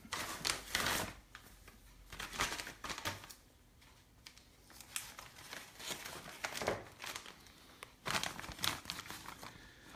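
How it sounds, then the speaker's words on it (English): A plastic parts bag from a Pro-Line PRO-MT 4X4 RC truck kit is cut and torn open, giving bursts of close, crisp crinkling and snipping that come in several clusters across the span with quieter handling between. "let's see if we can cut this open."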